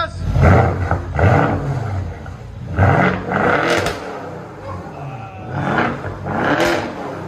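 A muffler-deleted 4.4L V8 in a 2015 BMW 650i roars through a series of repeated revs nearby, each blip rising sharply then dropping back to a rough, rumbling idle, with little talk.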